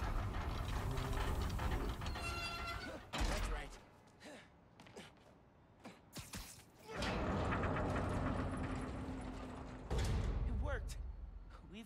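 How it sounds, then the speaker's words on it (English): Trains rumble and clatter along tracks in the Spider-Man: Miles Morales video game on PS5, with creaking mechanical noise and bursts of game action that cut out and return. "Got trains on the tracks."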